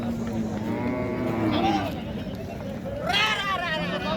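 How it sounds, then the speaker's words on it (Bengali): Cattle moo loudly and repeatedly at a crowded open-air market for sacrificial cows, with a steady background murmur of crowd noise. "এই যে দেখুন বেশ বড় বড় গরু"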